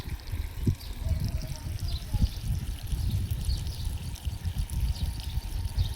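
Irrigation water runs steadily through a groundnut field, a continuous low rushing and trickling flow that stays close and fairly even throughout, with no talk over it.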